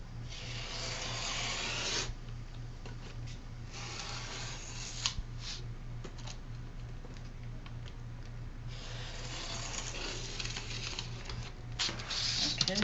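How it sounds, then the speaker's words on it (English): Scissors cut through fabric folded double between two pins, producing a close, steady rasping snip-and-slide texture over a constant low hum, with brief louder crunches as the blades close. "I actually can fold that and cut both sides at the same time. Cutting between my two pins."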